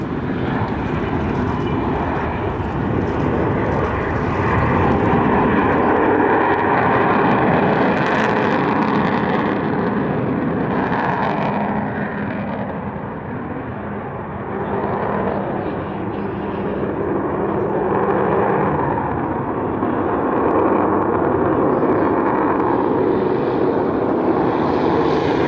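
The Avro Vulcan XH558 bomber flies past at the Duxford airshow with a loud, continuous jet roar that swells and fades slightly as it passes, a broad rumbling drone that lasts the whole stretch.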